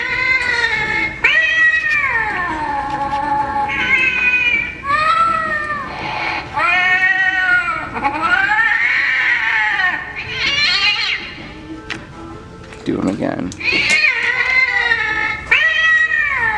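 A Target Halloween animatronic cat prop gives a run of loud, drawn-out electronic meows and caterwauls, repeating one after another, with a brief voice speaking partway through.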